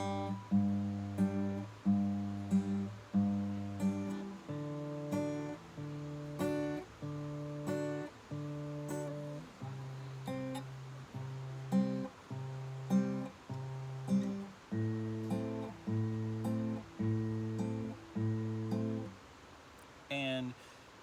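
Banjo-style fingerpicking on an acoustic guitar, using only a few fingers: a steady, even pattern of plucked notes in repeating rolls, close and clear, played alone without talk.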